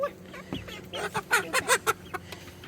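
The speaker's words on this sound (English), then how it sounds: "Sounds like a duck" A duck gives a short run of quick, nasal quacks, a handful of calls in a rapid burst, fairly close and moderately loud, near a chicken coop.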